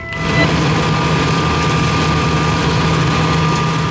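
A farm tractor engine runs steadily, a loud, constant low drone with a droning hum, close by and without talk, on a rain-soaked farm before a hurricane.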